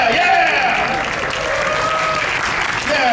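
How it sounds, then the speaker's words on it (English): Loud, continuous applause from a convention panel audience during a cosplay court skit. The clapping is dense and steady, with voices and cheers mixed in. "Clap harder. Harder!"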